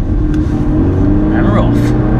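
A project car pulling away on the road, its engine humming loudly and continuously close by, with a brief rise in tone partway through and no clear voices.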